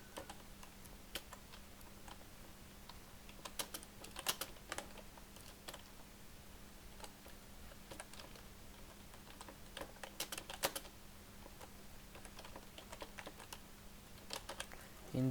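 Typing on a computer keyboard while entering an address in MS Word: quiet, close key clicks in irregular bursts and clusters over a faint steady hum, with no voice.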